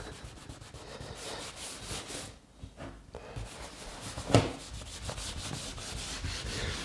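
A cloth rubs beeswax back and forth over a wooden door in a continuous close scrubbing sound that pauses briefly midway, with one soft knock near the end.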